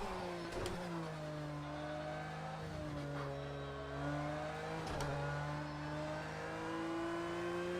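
A Porsche 911 GT3 in Project Cars 2 held at full throttle around Mount Panorama, a loud steady engine wail with rising gear pulls and brief shift breaks, alone without talk.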